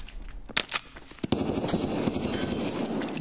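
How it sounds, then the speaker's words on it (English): Escape from Tarkov gunfire in a hallway fight, with a few sharp shots early on, then a sustained loud burst of rapid covering fire that continues to the end, close by. "Doing covering fire."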